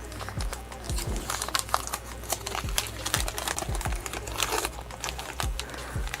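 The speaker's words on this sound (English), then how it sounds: "So let's crack open these Gremlins cards." Hands unwrapping a 1984 Topps Gremlins wax trading card pack: steady crinkling and rustling of the waxy paper, with scattered soft taps and tearing, close up and without talking.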